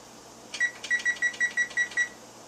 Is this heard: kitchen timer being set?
yes